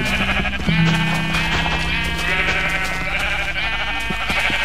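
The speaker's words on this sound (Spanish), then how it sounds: "Mata a la oveja, mata a la oveja." Sheep bleating loudly in the Minecraft video game, a sustained wavering blare repeated over a background of game music, close and clear with no talking.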